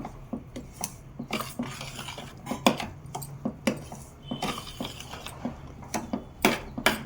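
A spoon stirs rava idli batter with baking soda in a bowl. It clinks and scrapes against the sides in quick, irregular taps, close and fairly quiet.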